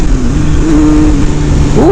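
Engine of a Yamaha FZ1 naked street motorcycle, a steady loud close drone that rises in pitch near the end as the rider revs it, with no talking.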